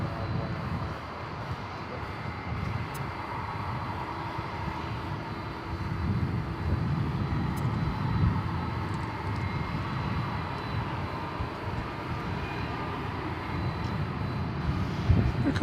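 Airbus A319 at DFW Airport at night, a steady, distant jet engine roar with a low rumble that holds evenly throughout, no talk over it.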